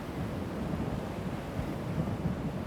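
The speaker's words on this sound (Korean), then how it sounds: "포항 지역은 겨울철만 되면 이 북서풍이 붑니다." Steady cold northwest winter wind roars and buffets across the Pohang coastline in South Korea, a continuous dense rush with low gusting rumble and no voices.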